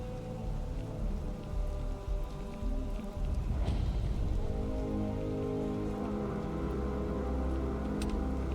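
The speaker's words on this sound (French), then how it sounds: "Il pleut." Rain falling in the video game Starfield, a steady dense patter on surfaces with a low rumble beneath, heard alone and continuous throughout.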